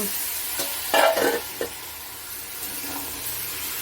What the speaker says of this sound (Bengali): এখন লোটে মাছ বসিয়েছি এই যে লোটে মাছটা গোটা গোটা রান্না করব